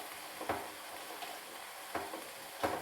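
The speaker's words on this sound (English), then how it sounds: "Just bring that to a nice simmer." Minced beef and onion cooking in a pan at a gentle simmer, giving a faint, soft sizzle with a few brief stirring scrapes, no voices.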